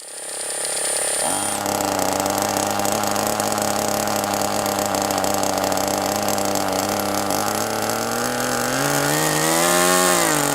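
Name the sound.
OS Max 21 FSR glow model engine running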